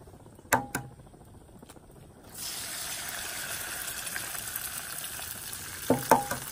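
Three eggs hit a hot pan for breakfast migas, after two light taps a steady loud sizzle of frying rises and holds, with a few clinks near the end.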